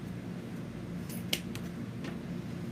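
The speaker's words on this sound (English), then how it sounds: "But then what I'll do is cut these at an angle." Scissors snipping deco mesh ribbon tails at an angle while making a wreath: a few quiet, brief cuts clustered together over a soft room background, with no speech.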